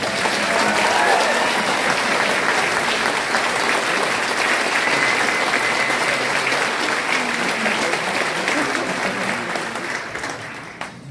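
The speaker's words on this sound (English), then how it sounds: "So let's give them one more round of applause." A crowd applauds a high school 9th and 10th grade band concert, a loud continuous wash of many hands clapping that holds steady for about ten seconds before easing off.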